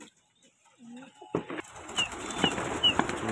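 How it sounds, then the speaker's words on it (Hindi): A pigeon takes off with a short burst of flapping wings close by, followed by repeated wingbeats and rustling as it flies out, after a faint coo and brief quiet talk. "निकल गया भाई कबूतर बाहर।"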